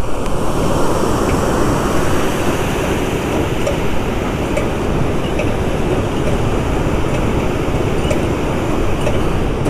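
A loud, continuous roar of water rushing through a dam sluice at Kallanai, steady and close, like a heavy torrent pouring through a channel, with no talking.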